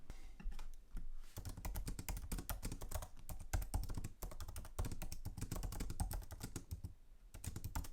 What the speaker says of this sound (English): introduced this new Magic Keyboard, which uses a scissor switch. And basically what it means is you have a really nice typing experience.